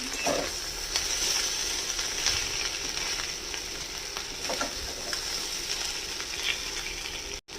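Fried fish sizzles steadily in a hot pan with occasional scraping and stirring clicks, a continuous close crackle with no talking.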